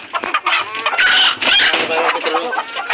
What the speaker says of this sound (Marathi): कोंबडा काय मिळाला आहे फायटर कोंबडा